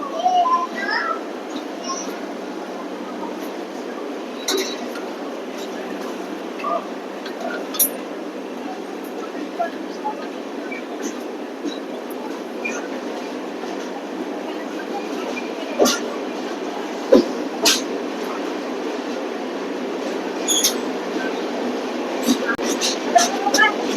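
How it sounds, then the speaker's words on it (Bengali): A passenger train on the Kolkata–Mumbai route pulls out of Dhamangaon station, heard from inside a carriage as a steady rumbling hum. Occasional clinks and knocks punctuate the hum, and voices murmur faintly in the compartment. "এবার ট্রেন ছেড়ে বেরিয়ে যাচ্ছে"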